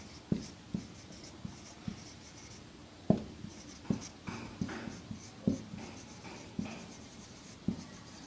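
A pen scratches across paper in short strokes with small taps, writing out acid names for toilet cleaners, quiet and close, in an irregular rhythm of quick marks and pauses.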